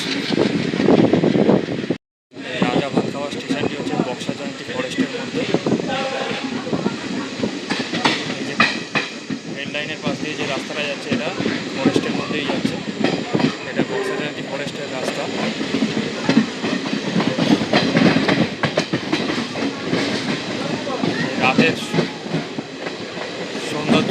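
Train 15767 from Siliguri to Alipurduar Junction rolls through the night with a steady, loud rumble and rhythmic clatter of wheels on rails, broken by one brief dropout near the start, with no voices.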